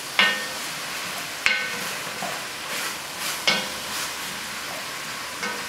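Chopped carrots are stirred in a pan over a soft background hiss, with several distinct scraping knocks of a utensil against the pan at irregular intervals, close and clear, no talking.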